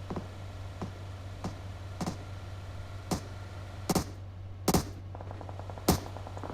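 Gunfire in the mobile battle-royale game PUBG Mobile: sharp single shots spaced irregularly across several seconds, some in quick doubles, cracking over a low steady background hum with no talking.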